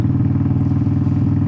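Motorcycle engine engaging in first gear as the clutch is let out, a steady, close low rumble with a rhythmic pulsing chug and light mechanical clatter.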